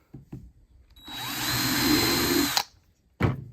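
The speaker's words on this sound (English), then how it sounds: "Take my drill." A power drill whirs up and bores a small pilot hole in wood while building DIY nesting boxes, one sustained close, loud motor run of about a second and a half, framed by brief clicks and handling knocks.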